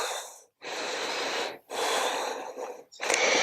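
Deep, audible breaths taken while holding a warrior one yoga pose, three long airy exhales or inhales separated by brief silent pauses, close and fairly loud, with no speech.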